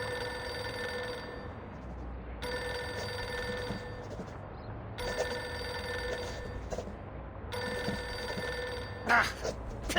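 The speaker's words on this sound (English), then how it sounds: "Pick up the phone already." A telephone bell rings in four long, steady bursts separated by short pauses, loud and close, with a brief rustle near the end.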